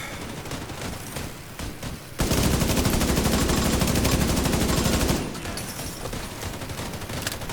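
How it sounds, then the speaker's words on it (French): Enemy gunfire in a video game erupts as a loud, sustained burst of rapid automatic shots lasting about three seconds, with quieter game sounds before and after. "Parce qu'il va me tirer dessus, même à terre, il me tire dessus."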